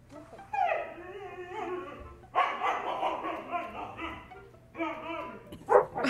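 Husky dogs barking and vocalising back and forth in a noisy argument, with yips and whining howls in close, loud bursts that come and go across several seconds.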